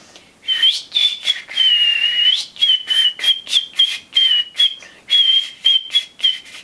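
A person whistling during a speech-therapy exercise for a lazy tongue, a clear close run of short repeated whistled notes with one longer held tone near the start, alone without talk.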